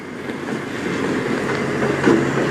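A Phase 4 FP40 locomotive hauls a train through North Station with a steady rumble and clattering of wheels on rails, continuous and fairly close, with a brief squeal near the end.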